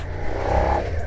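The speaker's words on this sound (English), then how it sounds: "So you get that little twin sound. It's really nice. Not too jarring on the ears either. Properly tuned Yoshimura exhaust system." A 2022 Suzuki SV650X parallel-twin motorcycle with a Yoshimura exhaust, baffles fitted, gives a brief, fairly loud engine rumble that swells and eases over about a second, close by and with no voices.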